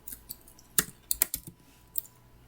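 Fingers tap out code on a computer keyboard in quick, uneven clusters of close, crisp clicks with short pauses between, quiet overall and without any speech.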